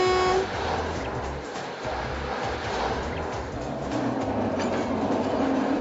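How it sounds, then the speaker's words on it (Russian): Narrow-gauge railway locomotive train running toward the marshes, a close, steady rumble with rhythmic wheel clatter and a brief tonal whistle-like note at the start and end. "от этой станции мы с вами начинаем путешествие вот на этом замечательном локомотиве, вот по этой замечательной узкоколейной дороге в сторону болот"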